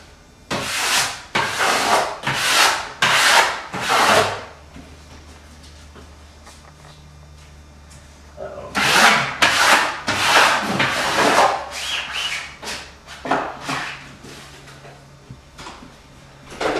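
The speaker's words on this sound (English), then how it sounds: "I come up and I wash that half and I wash into the corner." Freshly hung wallpaper being washed and rubbed down, a series of broad swishing, hissing strokes in two bursts separated by a quieter pause, close by with no talking.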